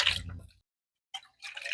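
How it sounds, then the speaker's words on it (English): Beef broth poured into emptied tomato cans to rinse them, giving two short wet sloshing bursts with a silent gap between, close and fairly quiet. "I am going to use my beef broth again to rinse out my tomato cans."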